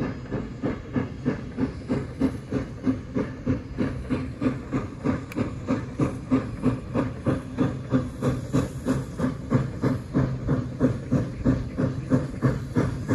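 Kettle Valley steam train chugging off Trout Creek Trestle, a steady rapid rhythm of exhaust beats with hiss and rail clatter, loud and close, continuing throughout with no voices.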